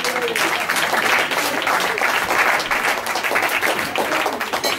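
Audience at a live stage hypnosis show applauding, a dense steady wash of clapping lasting throughout at even loudness, with no voices breaking through.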